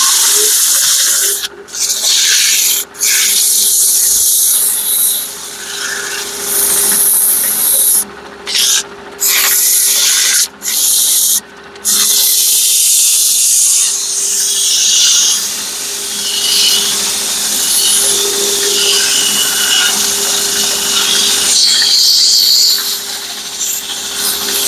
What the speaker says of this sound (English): So we're going to do a little sanding on it.